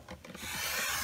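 A craft blade is drawn along a score line on paper for a Santa passport booklet: a few soft taps, then a steady, close scraping rasp that holds to the end.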